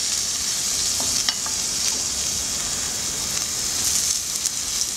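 Eggs frying on a hot pot lid, a steady bright sizzle throughout with a few faint pops and taps, close and fairly loud with no talk.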